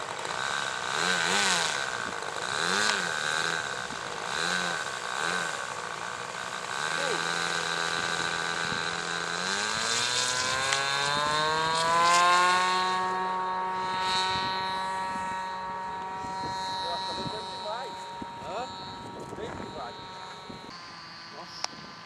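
A light airplane's engine at the Santa Cruz do Rio Pardo airfield drones steadily, then its pitch climbs and holds higher as power comes up for takeoff, loud and continuous throughout.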